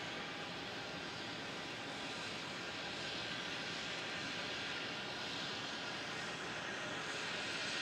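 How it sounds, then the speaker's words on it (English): A Jetstar Airbus A320 departs on runway 27 at Melbourne Airport at night, a steady, broad jet engine roar that stays even and fairly distant throughout, with no voices. "Jetstar 532 for Sydney with an A320"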